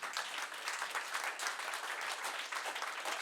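Church congregation applauding loudly and steadily during a French-language worship service, a dense continuous clapping that fills the space without any voices over it.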